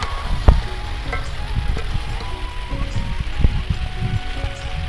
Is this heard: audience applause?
no